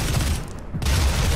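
Dense, continuous gunfire rumbles loud and close in the video game Doom SnapMap, a sustained barrage with a brief dip partway through before resuming at full force.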